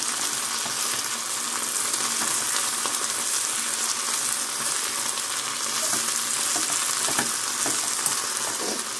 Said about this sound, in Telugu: మెంతికూర చేదు ఉంటుంది కాబట్టి బాగా ఫ్రై చేస్తే ఆ చేదు అన్నది పోతుంది